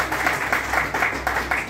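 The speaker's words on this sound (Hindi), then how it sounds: "एक सम्मानजनक ताली बजाएंगे आप लोग" An audience at a seminar in Ayodhya claps together in a steady, moderately loud round of applause, a dense patter of many hands continuing evenly from start to finish without speech.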